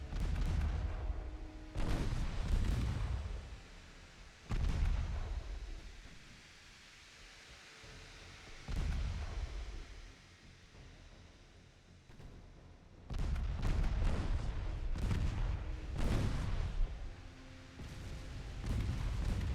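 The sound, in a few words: torpedo detonation in naval video game Ultimate Admiral Dreadnoughts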